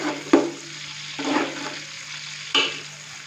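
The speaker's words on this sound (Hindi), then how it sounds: "प्याज डालने के बाद हम प्याज को लाइट ब्राउन होने तक फ्राई करेंगे।" Finely chopped onion frying in a pot for beef matar pulao: three distinct stirring strokes over a steady hiss and low hum, close and moderately loud, with no speech.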